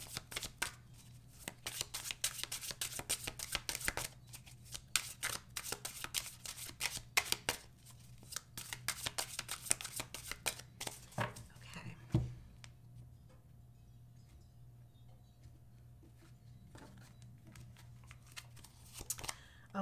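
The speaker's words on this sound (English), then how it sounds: "so let's shuffle up your cards" Tarot cards shuffled by hand at close range, a quick run of riffling snaps for about eleven seconds that then thins to softer, sparse card sounds, quiet and unaccompanied by talk.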